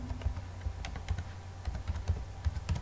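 Typing on a computer keyboard while entering a customer's mobile number into a form, with a run of light, irregular key clicks and occasional firmer taps, close and clear, with no voice over it.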